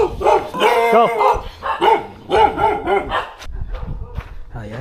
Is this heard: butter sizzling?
no